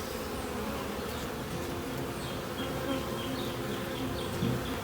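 Honeybees buzzing steadily around an open hive during an inspection, a dense continuous hum close by with individual bees droning past, no speech.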